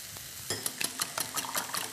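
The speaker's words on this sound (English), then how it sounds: "Mix it all up." Ingredients seasoned with pepper are stirred together in a bowl, producing a rapid run of close scraping and clinking strokes with no voices.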